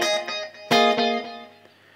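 A compressed electric guitar with reverb strums several bright chords, each followed almost instantly by a bouncing eighth-note slapback echo, the last chord decaying slowly into a soft wash.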